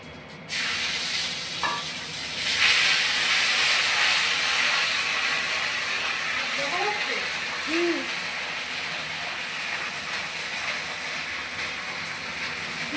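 Ginger paste dropped into hot oil already holding bay leaf and whole cumin: a loud, steady hiss jumps in after a brief quiet start and keeps going evenly, with a few faint chirps in the background.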